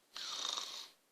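A storyteller's voice imitates a single snore, one drawn-out breathy rasp lasting under a second, soft and close, with silence before and after.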